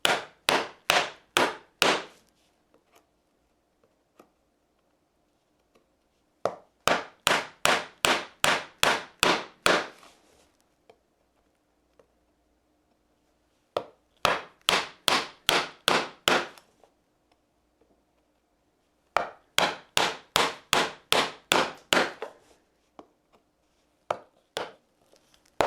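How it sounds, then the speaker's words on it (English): A chisel is struck repeatedly with a mallet as it chops straight down along a knife line in wood, cutting half-blind dovetails. Sharp, close wooden knocks arrive in four quick bursts of about six to ten blows each, with short pauses between the bursts. "I can put my chisel right in that knife line and go straight down"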